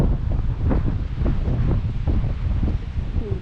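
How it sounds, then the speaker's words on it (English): Strong wind buffets the microphone in heavy, rumbling gusts, loud and continuous with no voices. "Feel that wind is just ripping."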